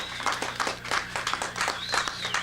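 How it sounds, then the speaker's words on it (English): A studio audience claps in a quick burst of scattered, fairly faint hand claps over a low steady hum. "let's have a round of applause"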